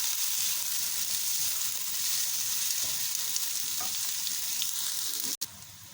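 Chopped onion sizzling steadily in a hot pan for a chicken kofta curry, a continuous close frying hiss with a brief stir or clink near the end, no talking.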